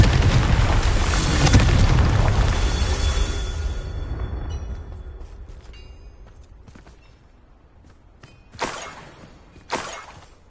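A Confringo fire spell blast in Hogwarts Legacy: a loud booming burst with crackling debris that fades over several seconds, followed by two sharper smaller impacts near the end.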